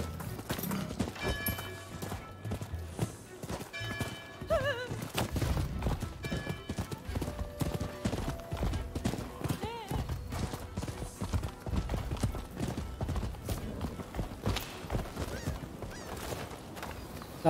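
A horse gallops in the video game Rise of the Ronin with a steady, continuous clip-clop of hooves, a whinny heard partway through, and occasional game sounds over it throughout.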